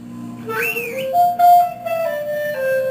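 A shrill whistle sounds in a few rising and sliding tones, then a sustained lower pitch held and shifted, fairly loud and close.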